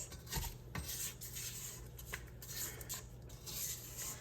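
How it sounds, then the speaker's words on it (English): Spatula scraping down the sides of a mixer bowl of orange butter cake batter, a run of soft repeated rasping and scuffing strokes with a few light knocks against the bowl, close and fairly quiet, no talk. "Stop the mixer again, scrape down the sides."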